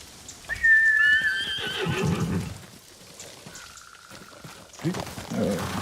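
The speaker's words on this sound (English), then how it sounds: "Let's call my horse." A horse in the video game Ghost of Tsushima whinnies loudly with a high, quavering neigh, followed by rumbling movement and a softer tonal sound amid background noise.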